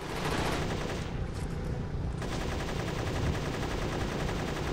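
Gunfire in the video game Unearthed: Trail of Ibn Battuta sounds as a dense, continuous stream of rapid shots, loud and steady from start to finish.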